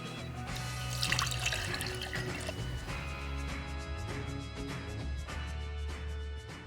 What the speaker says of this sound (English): The first thing we're going to do is fill each individual vase with water.